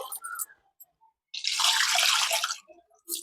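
Running water splashes and swishes for about a second as soaked lentils are washed in a sink or bowl, close and fairly loud, with quieter clinks before and after.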